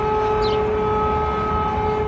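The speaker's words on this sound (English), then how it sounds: "air raid sirens" A steady, droning air raid siren wail in Ukraine holds a constant pitch, loud and unbroken over low rumbling background noise.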